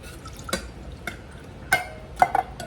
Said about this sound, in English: And you just mix that up.